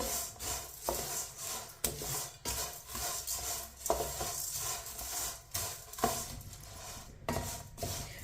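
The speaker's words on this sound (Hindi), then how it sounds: "सेवइयां डाल लेंगे। ऑयल में मिक्स कर लेंगे।" Vermicelli (seviyan) is stirred and tossed in oil in a pan for a sweet milk seviyan, a quiet repeated scraping and rubbing with soft clinks of the spoon against the pan at an even rhythm, with no talk.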